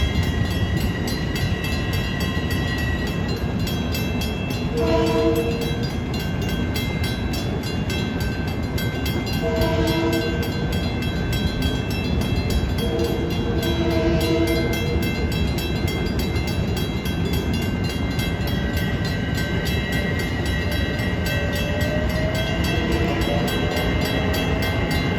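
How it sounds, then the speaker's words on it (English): LIRR MU electric commuter train pulling out of Farmingdale past road crossings, its horn sounding in repeated blasts over steady rolling rail rumble, with a long closing horn note as the train moves off. "we see the train pulling out over the Secretog Avenue crossing, and he's got to blow his horn for 3 more crossings"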